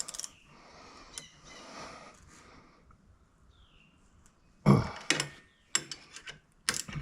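Bolts on hydraulic lift axle brakes are tightened with a ratchet, a faint rasp early on, then louder clicking bursts and metallic clanks near the end.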